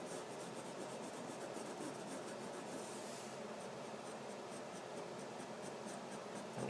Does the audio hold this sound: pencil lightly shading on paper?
yes